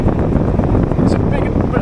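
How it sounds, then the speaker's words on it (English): Heavy wind buffets the microphone in a constant low roar while cycling a gravel bike into a headwind in Scotland, with a voice briefly audible under the gusts. "Windy."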